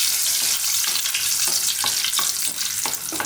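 Dried red chillies and bay leaves crackling in hot oil, a bright, continuous hiss with a few quick spatters and spoon clicks, close and loud, no one speaking.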